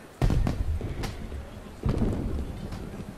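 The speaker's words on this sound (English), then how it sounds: "Fireworks? In the middle of the day." Fireworks bursting in the game Assassin's Creed Unity: two heavy booms, one at the start and one about halfway through, each followed by a rumbling tail and faint crackle.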